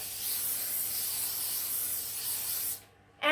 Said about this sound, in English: Add some spray and cook or cook and bake onto your sheet surface so that the pizza doesn't stick onto it.